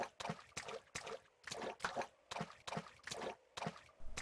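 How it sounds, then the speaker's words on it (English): Footsteps splash and thud on floating water platforms in the video game Dead Bits, roughly ten even, evenly spaced steps with a wet, plopping character, quiet and alone. "We can only hear the sound of our footsteps on these floating water"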